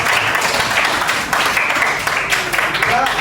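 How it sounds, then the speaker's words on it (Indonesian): Classroom audience clapping for a presenting student group, a steady dense patter of hands filling the whole moment with no pause. "Oke, boleh tepuk tangan untuk kelompok 2"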